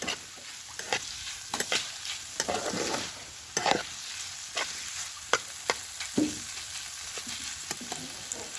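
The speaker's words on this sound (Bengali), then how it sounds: "এ হয়ে এসছে, আর একটু ভাজা ভাজা করে নিয়ে তারপর মশলা দিয়ে দেবো।" Food frying and being stirred in a pan over a wood-fired clay stove, with a steady sizzle broken by repeated sharp scraping strokes of the spatula, close and moderately loud, with no voices.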